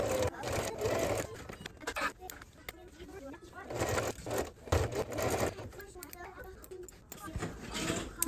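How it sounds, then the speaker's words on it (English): A sewing machine running a straight-stitch quarter-inch seam on a zipper pouch, its motor whirring in several steady runs with short pauses between, close and moderately loud, with a voice talking over parts of it. "So now I'll sew 1/4 inch seam allowance, straight stitch."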